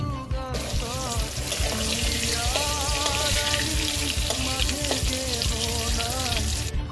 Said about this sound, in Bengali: তারপরে আলুগুলো ভেজে নেব মাংসের জন্য।